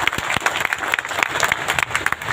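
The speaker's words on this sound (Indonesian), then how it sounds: "tepuk tangan untuk Anda semua." Audience applause at a gathering of Banser Ansor members in Riau province, brisk overlapping claps with distinct sharp hits, close and lively throughout.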